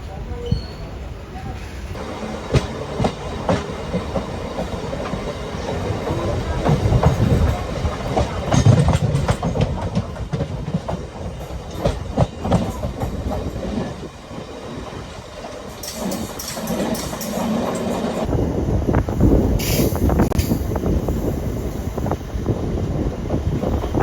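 A Coimbatore–Shoranur MEMU passenger train pulls away from Madukkarai station with a steady rolling rumble, rail clatter and wind buffeting heard from on board, while someone talks over it.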